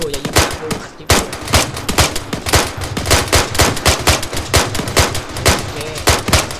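Airsoft guns firing during military-style training for new recruits: a dense, continuous string of sharp, loud shots close by, rapid and fairly regular throughout.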